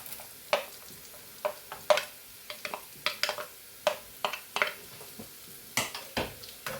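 Grated coconut frying with spices for a Kerala-style chickpea masala curry, soft sizzling under a string of sharp scrapes and clinks from stirring in the pan, irregular and close by.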